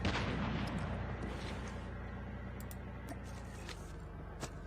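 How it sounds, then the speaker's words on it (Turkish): A tank rolls in during a Call of Duty Mobile match: loud, continuous low engine rumble with heavy booming and gunfire-like bursts, dense and close throughout, with a few sharp cracks scattered over the din. "Nasıl bir şey ya bu tank nereden çıktı ya? Bir anda tank geldi tepeme."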